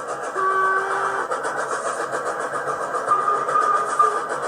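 A steady mechanical rumble with a rhythmic rail-like clatter and faint whistle tones from a Hornby Black 5 model steam locomotive chuffing continuously close by.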